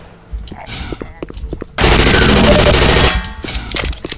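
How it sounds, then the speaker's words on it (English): Rapid bursts of machine gun fire in the Black Mesa 2009 Half-Life 2 joke mod, starting abruptly loud and steady for over a second, then continuing at a lower level after sparse earlier clicks. "it's machine gun time, bitches"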